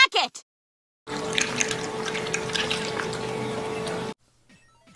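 A human mouth imitates slurpy popsicle eating: a few seconds of wet, drippy slurping and sucking noises, close and fairly loud, set between short bursts of silence.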